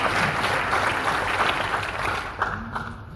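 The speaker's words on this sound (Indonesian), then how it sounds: "Mari kita berikan aplaus kepada beliau." An audience claps steadily for a local COVID task force head at a national outlook seminar. The applause holds at an even level, then thins out near the end.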